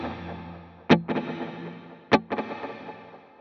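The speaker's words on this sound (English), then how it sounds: "now it's going to give you that ping pong kind of stereo delay thing going on" Electric guitar chords struck twice through a Line 6 POD Go ping-pong stereo delay, each followed by a train of quick echoing repeats that fade away between strums.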